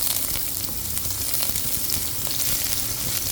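Garlic, onion and ginger sauté in a pan for chicken tinola, making a loud, continuous close sizzle with faint crackles and no talking.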